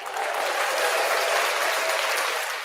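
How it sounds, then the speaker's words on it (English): An audience applauds warmly in a building, a dense, sustained wash of clapping from many hands that holds steady before tapering slightly at the end. "Let's go ahead and give her a warm hand clap in this building tonight."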